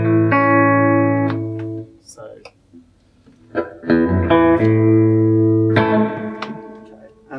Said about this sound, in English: I'm going to get a spring sound on this now